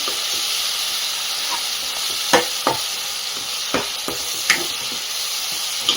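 Ginger garlic paste for Guntur mutton curry fries in hot oil: a loud, steady sizzling hiss fills the clip, broken by a few soft scrapes of a stirring spoon.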